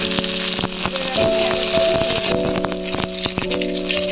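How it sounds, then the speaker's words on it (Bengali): Fish fries in hot oil in a home kitchen with a steady, even sizzle and crackle, close by, with scattered pops and clatter and no talking. "দেখো মাছগুলো ভাজা হয়ে গেছে"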